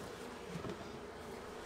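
Thousands of honey bees inside a beehive give off a continuous, close buzzing hum, even in loudness, with no talking over it.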